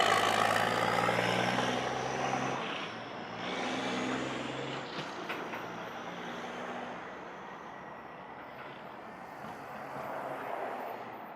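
An airliner taking off at Montego Bay Airport in Jamaica, a loud sustained jet engine roar with a whining high tone that swells and slowly fades as the plane climbs away, heard from nearby with no voices.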